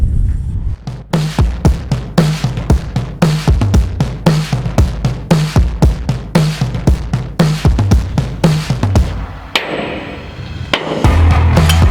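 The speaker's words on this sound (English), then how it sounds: "give it a good belt with the hammer. Got a sledgehammer to do that" A sledgehammer strikes the top of a boat's rudder shaft taper during a rudder bearing replacement, landing dozens of loud, sharp metallic blows in a fast, steady rhythm, close and alone, before the hammering stops and a scraping, shifting noise follows.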